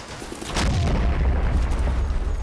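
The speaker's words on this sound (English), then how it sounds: "there's that cannon that has been reactivated" A cannon fires in the World War II strategy game Men of War: Assault Squad during a Market Garden battle: one sharp, loud blast followed by a sustained low rumble that rolls on without fading, with no voices over it.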